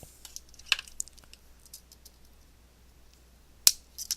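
Two crisp snips, one early and one near the end, cut excess plastic from a Kadee coupler fitted to a Bachmann Thomas train car, set against near silence and a few faint small clicks.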